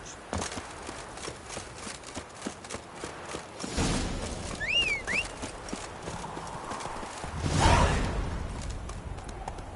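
Geralt's horse Roach gallops in The Witcher 3, with steady rapid hoofbeats clip-clopping throughout, louder whooshing surges in between and a brief whinny in the middle.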